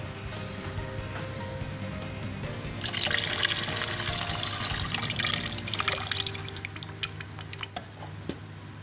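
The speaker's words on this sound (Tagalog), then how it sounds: "dagdagan natin siya ng konting tubig" Water pours into a pan of pork sisig simmering with pineapple juice, a soft trickling splash that swells for a few seconds in the middle over a quiet kitchen background.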